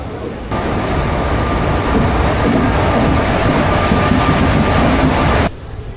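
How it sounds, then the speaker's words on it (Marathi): A passenger train pulls into Solapur railway station with a loud, steady rumble of wheels and carriages that rolls on for several seconds, then cuts off abruptly. "हे बघा आणि ट्रेन सुद्धा आली आपली"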